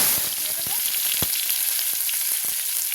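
Whole garam masala, bay leaf and five-spice crackle in hot oil, a close steady sizzle dotted with sharp pops and a few utensil knocks, short and without talk.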